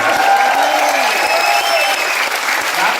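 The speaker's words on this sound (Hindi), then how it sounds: "ताली मिलकर ही करना।" An audience at a Cordelia Cruise trip celebration event claps loudly and continuously together, with a few voices calling out faintly over the even wash of applause.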